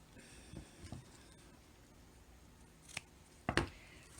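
Scissors trim the backing on a beaded t-shirt in a few quiet snips, two soft cuts followed after a pause by sharper, louder closing clicks.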